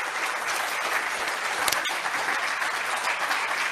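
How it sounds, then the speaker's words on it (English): Audience applause at a graduation ceremony at the BARC Training School, Hyderabad, a steady wash of distant hall clapping that runs evenly throughout without any voices. "Ladies and gentlemen, a big round of applause for all of them"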